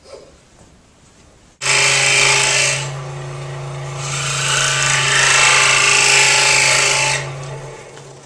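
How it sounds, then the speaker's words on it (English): A power saw cuts ridges into wood for a cupcake box, giving a loud, steady whine with a harsh rasping cut that eases briefly, then swells again before fading. "then I'm going to push it back toward the back of the saw, and then pull it back to the right"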